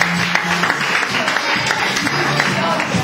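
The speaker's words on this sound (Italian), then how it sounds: "Direttore esecutivo, un altro applauso, anche se non è presente" An audience at a music festival applauds for the executive director, a broad, continuous wash of clapping from a crowd with voices mixed in.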